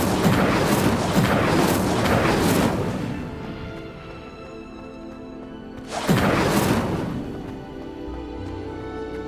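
A fire spell cast in the video game Hogwarts Legacy bursts out as a loud roaring blast that rumbles and fades over a few seconds, then a second burst hits and trails off, with no talk.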